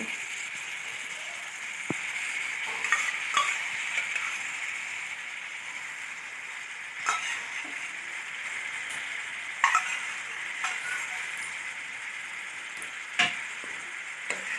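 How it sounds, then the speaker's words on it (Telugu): Drumstick pieces and raw prawns stirred in a curry pan, a steady soft sizzle with occasional scraping clicks of the spoon against the pan, close and moderate in level with no talking. "పచ్చిరేలు వేసాక మునక్కాయల పచ్చడిలు ఉల్లిపాయలు ఒకసారి మిక్స్ అయ్యేలా బాగా కలుపుకోవాలి"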